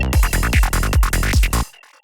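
One beat of a dance-track bassline pattern sits over punchy kick thumps as a short transition, ending abruptly in near silence.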